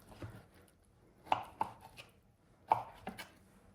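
Knife cutting through soft roasted aubergine on a board, a few crisp separate chops with quiet gaps between them, close and clear with no talk over it.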